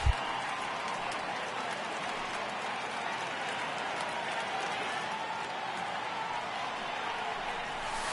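Steady roar of a home baseball crowd in a video game, a broad continuous wash of cheering and murmur holding level for several seconds with no clear voices standing out.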